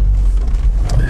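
Low steady rumble of a UAZ Patriot or Niva car driving, a brief loud cabin drone with road noise and no talk.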